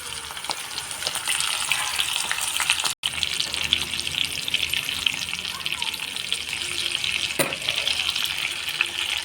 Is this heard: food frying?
yes